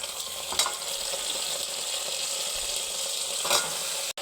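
Long-cut brinjal and other vegetables are dropped into hot tempering for sambar, giving a steady, fairly loud sizzle with a couple of sharper stirring scrapes and a clunk near the end.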